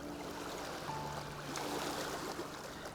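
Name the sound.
water lapping on rocks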